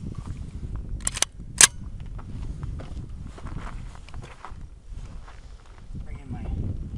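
Three sharp, crisp reports from a Spikes Tactical .22 rifle fired at a target outdoors: two close together near the start, then a single louder crack, over a steady low background rumble.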